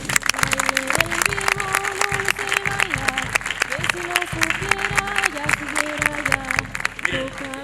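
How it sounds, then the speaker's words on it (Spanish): An audience applauds at a 92nd anniversary celebration in Sabinosa: a dense, continuous patter of clapping mixed with sustained tonal sound from music or voices. "Pido un aplauso para ellos"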